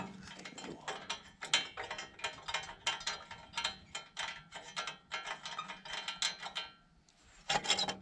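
Screws being backed out of a small engine part during repair, with repeated ratcheting clicks and scraping metal turns in quick bursts, close and fairly loud, pausing briefly near the end before resuming.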